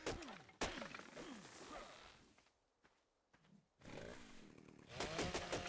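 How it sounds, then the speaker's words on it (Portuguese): A chainsaw revs and cuts during resource harvesting in the video game ARK Ultimate Mobile, a buzzing engine with whacking impacts that dips briefly quiet midway before returning. "Motosserra também dá pra farmar, ó."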